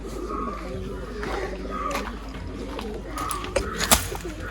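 Haifa pigeons in a loft coo in low throaty bursts, close and repeated, over a steady background hum.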